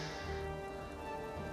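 Quiet, even rainfall in the game Morroblivion makes a soft, constant hiss of drops beneath a low steady hum.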